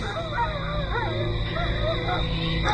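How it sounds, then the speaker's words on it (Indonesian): A dog howls at night, its rising and falling wavering cries repeating over a steady background hum and low noise. "dan lolongan anjing"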